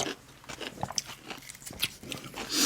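Crisp, close crunching and chewing of young radish (yeolmu) kimchi while eating naengmyeon cold noodles, a quick run of soft bites alone with no talk.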